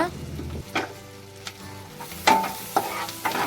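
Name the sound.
garlic and green chillies stirred while frying on low flame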